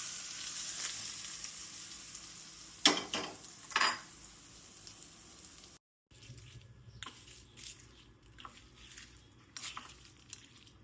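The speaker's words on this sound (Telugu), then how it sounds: "వేగిపోయిన తాలింపుని మనం పచ్చడిలోకి ట్రాన్స్ఫర్ చేసుకుందాం" Hot tempering of spices and asafoetida tipped from a pan into grated raw mango chutney gives a few sharp sizzling bursts, then a quieter crackle with light clinks of utensils.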